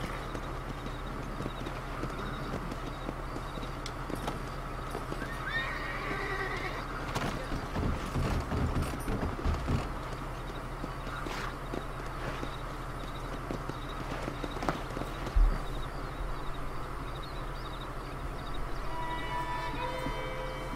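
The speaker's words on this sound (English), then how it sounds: "Just back on the horse." Horse hooves clip-clop steadily in Red Dead Redemption, a continuous rhythmic trot under ambient game sound, with a louder burst of movement midway.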